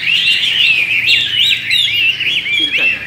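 A Chinese hwamei songbird sings loud, close and continuous, with rapid rising and falling whistled phrases over faint background noise.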